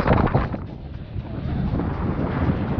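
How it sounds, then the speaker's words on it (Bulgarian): Loud, roaring wind of about 45-50 km/h buffeting the microphone in strong continuous gusts on the 2540 m Solunska Glava peak in Macedonia, rumbling and close throughout. "Доста духа."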